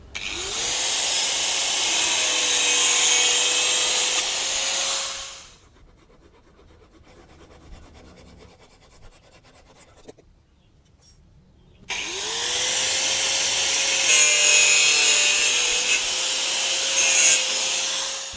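Rhythmic back-and-forth rasping of a hand saw cutting pipe, two long bursts separated by a quieter pause with faint handling noises.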